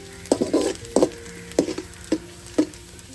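Chopped garlic fries in oil for vegetable fried rice, a soft continuous sizzle broken by four or five louder stirring scrapes at an even pace, close up with no talking.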